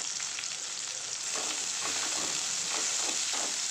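Green chillies and curry leaves sautéing in a pan produce a steady close sizzle that swells slightly as stirring starts, with soft rhythmic spatula scrapes and no voices.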